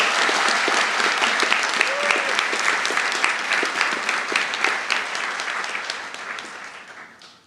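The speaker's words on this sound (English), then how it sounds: "How about another round of applause?" Audience at a university commencement ceremony giving a round of applause, dense sustained clapping from many people in a hall that slowly fades toward the end, with no speech over it.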